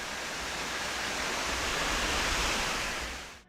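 Rushing waterfall roars in a steady, dense broadband wash, close and constant, then cuts off abruptly at the end; no voices.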